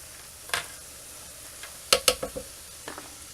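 Funnel cake batter with apple chunks drizzles into hot frying oil, giving a soft background sizzle broken by several sharp splattering crackles, close and clear, with no talking.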